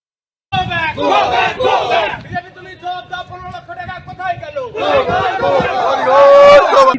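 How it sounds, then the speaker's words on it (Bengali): A crowd chants and shouts a 'go back' slogan at a BJP election candidate in Jalangi, loud rhythmic massed voices rising together with a brief dip in the middle before surging again. "বিজেপি প্রার্থী গৌরী শঙ্কর ঘোষকে ঘিরে গো ব্যাক স্লোগান দেয় বলে অভিযোগ"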